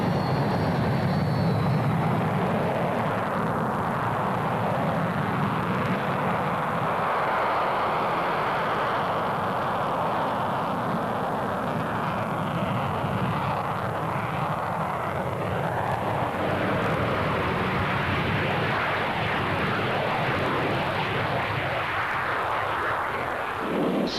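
A SEPECAT Jaguar jet strike plane flies past during RAF test trials, a continuous loud roaring engine rumble that swells and shifts steadily over the whole stretch.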